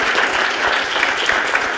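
An audience claps for all the presenters at the Ideafest 2017 visual storytelling evening: a sustained, dense round of applause, loud and steady from start to finish.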